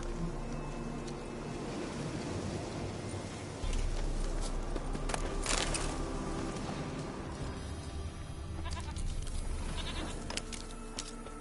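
A goat bleats in The Witcher 3 amid game ambience, its calls repeating over steady background noise and footsteps. The sound is moderately close and nobody talks.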